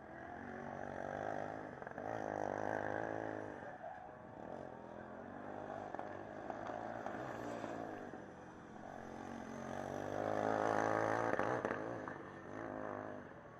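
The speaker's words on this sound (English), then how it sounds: "The sound of that Bangkok car is pretty distinct" A Formula Student race car engine drones and revs in waves, its pitch climbing and falling as the car accelerates during an endurance event, steady and fairly distant throughout.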